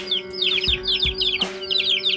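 Chickens clucking and chirping close by at a rural Thai home, with a hen among her chicks; a steady run of short, busy calls with a few louder thumps between them.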